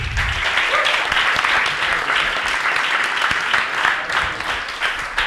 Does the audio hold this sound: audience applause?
yes